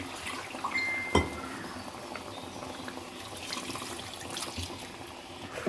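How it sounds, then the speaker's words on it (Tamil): Water poured from a tumbler into beef gravy cooking in a pot, a soft continuous trickle and splash with one sharp clink partway through, heard close and fairly quiet. "நான் இதில் 1 டம்ளர் தண்ணி ஆட் பண்ணியிருக்கேன்."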